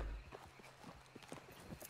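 Horse hooves clip-clop steadily at a walk in the Red Dead Redemption 2 video game, a quiet, fairly even run of soft hoof strikes with no one talking.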